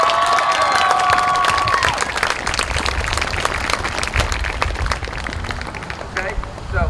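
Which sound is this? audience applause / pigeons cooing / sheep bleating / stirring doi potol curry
audience applause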